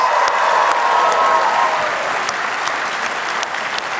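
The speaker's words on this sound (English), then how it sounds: "Give him a round of applause, guys." Broad, steady applause from a convention panel audience for a departing guest, loud and dense throughout with a few sharper claps standing out near the start, no talking over it.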